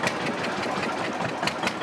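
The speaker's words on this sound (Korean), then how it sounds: "왠지 배 엔진 소리가 저를 설레게 합니다." Boat engine running steadily on a tidal mangrove waterway in the Sundarbans of Bangladesh, a continuous loud mechanical drone with no gaps and no talk.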